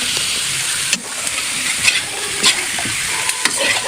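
Sponge gourd (patola) stir-frying in a hot pan for misua with siomai, a steady loud sizzle and hiss with a few scraping stirs of a utensil.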